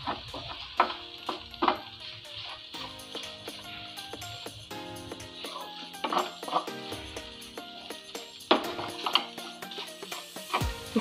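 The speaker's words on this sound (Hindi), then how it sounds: "ये ब्रेड डाल देते हैं इसमें और इसको अच्छे से इसमें मिला देते हैं।" Spoon stirring bread pieces into sizzling vegetables in a pan for bread upma, with steady frying hiss under repeated metallic scrapes and clinks against the pan, close and fairly quiet.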